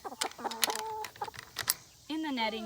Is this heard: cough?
no